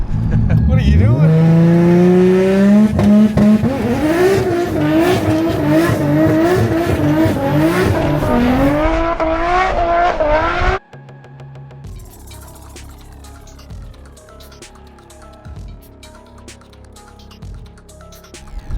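A Nissan Silvia S15 engine revs hard with rising pitch through the gears while the tires spin and squeal, loud and close, then drops to a lower, rougher run after the engine note cuts off.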